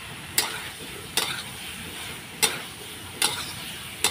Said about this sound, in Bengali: এখন আমি সব সোয়াবিনগুলো দিয়ে দেবো, দিয়ে কষিয়ে নেব